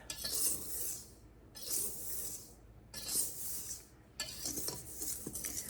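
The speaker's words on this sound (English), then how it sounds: "you're just going to take your whisk and you're going to mix this together" A whisk works flour, cocoa and sugar together in a bowl as dry cake ingredients, scraping and rasping in repeated bursts with short pauses, close but fairly quiet.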